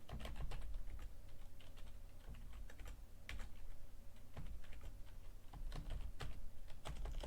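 Rapid, uneven keystrokes on a computer keyboard during a Docker command-line demonstration at a Linux user group meeting, a dense clatter of clicks throughout, fairly close over a steady low room hum.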